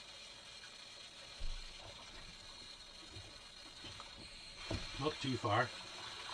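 Residual water draining from an opened central heating system valve, faint irregular gurgling and splashing that grows into a cluster of louder spurts near the end, with someone speaking briefly over it.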